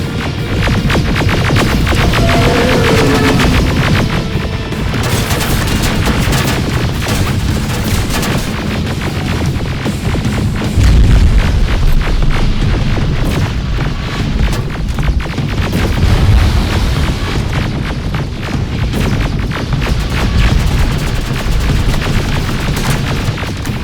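Heavy sustained gunfire in the shooter game Terminator Resistance, rapid overlapping shots and booming blasts forming a loud, continuous barrage from start to finish.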